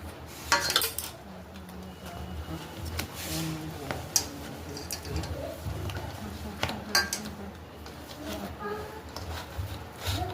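Boiled potatoes being mashed in a bowl for bread chop, with repeated clinks and scrapes of a utensil against the dish, uneven in rhythm and close up.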